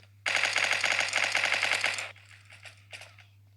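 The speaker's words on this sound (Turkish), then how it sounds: "Adama mermi ateş ediyorum adam yine ölmüyor Uzi ile" Rapid automatic fire from an Uzi submachine gun in the video game Block Strike, one loud sustained burst of about two seconds followed by a few fainter scattered shots.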